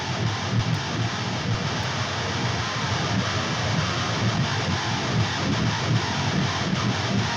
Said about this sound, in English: So the main rhythms sound like this.